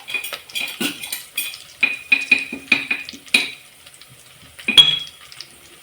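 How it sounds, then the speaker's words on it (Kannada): A metal spoon clinks and scrapes against a pan as spicy masala is stirred into a sambar tempering of oil, crushed garlic, curry leaves, cumin and mustard seeds, in a run of sharp close taps then a pause and one more clink. "ಮಸಾಲೆ ಖಾರ ಹಾಕಿ ಮಿಕ್ಸ್ ಮಾಡ್ತೀನಿ"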